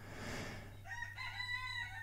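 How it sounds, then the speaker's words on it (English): A rooster crows outside a house, heard faintly in the distance through a steady low hum, with its long drawn-out call rising and wavering over about a second. "Can you hear that rooster crowing in the background again?"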